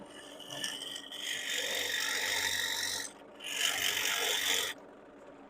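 A spindle gouge cuts into hard wood spinning on a lathe, giving a steady close rasping hiss in two long passes separated by a brief pause.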